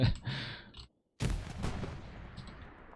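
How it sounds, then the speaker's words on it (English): Grenade explosions in the World War II shooter Hell Let Loose: a loud, sharp blast after a brief silence, trailing off into a long rumbling decay, with distant gunfire and no talk. "Okay, so more grenades going out."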